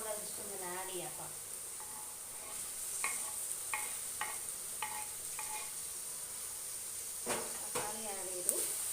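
Chicken curry base frying in a pan, with spoon scrapes and stirring strokes over a soft, steady sizzle; a person talks at the start and again near the end.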